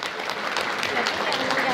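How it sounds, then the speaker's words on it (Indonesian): An audience claps steadily, a dense patter of hands with a voice speaking over it. "tepuk tangan untuk Bapak Ibu."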